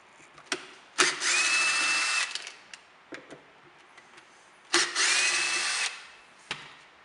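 A power tool works the belt cover screws on an electric carbon street skateboard, two longer whirring bursts with a rising whine, framed by sharp clicks and knocks, close by and without speech.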